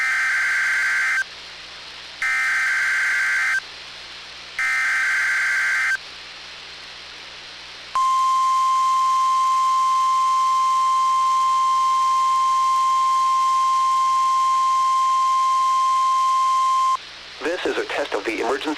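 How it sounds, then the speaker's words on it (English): Emergency Alert System test tones sound over the radio: three loud paired header bursts separated by short gaps, then a long steady NOAA weather radio warning tone, ending in a brief garbled burst. "This is a test of the emergency alert system and NOAA weather radio's warning alarm."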